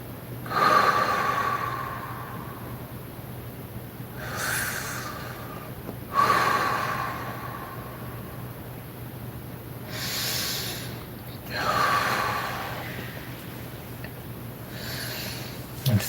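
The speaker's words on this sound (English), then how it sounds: "Taking a couple of breaths in and out." Slow, calm meditation breathing, close to the microphone: roughly four unhurried cycles of breathing in and out, each an airy rush separated by quiet pauses over a low steady hum.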